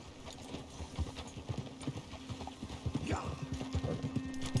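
Rapid hoofbeats clip-clop steadily as horses move along in the video game Red Dead Redemption 2, with a horse whinnying briefly partway through and soft voices in the background.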